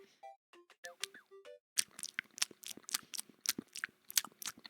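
A person imitating a bunny munching with the mouth, a rapid train of soft crunchy chewing clicks, close and quiet, preceded by a few short squeaky tonal mouth noises.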